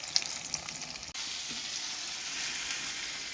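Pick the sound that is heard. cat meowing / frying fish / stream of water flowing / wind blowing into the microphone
frying fish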